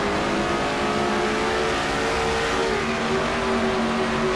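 A stock car in a racing video game at the Glen, its engine roaring steadily and near, then the pitch drops as it shifts up into third gear and climbs again.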